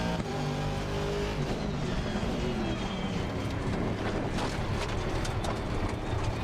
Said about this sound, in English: The car sound, the noises in the cabin, the cockpit.